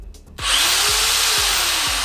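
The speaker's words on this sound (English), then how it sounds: "I have a corded drill here." A corded electric drill spins up abruptly after a brief quiet moment and keeps running at a loud, steady whine with a low rhythmic thump, close by.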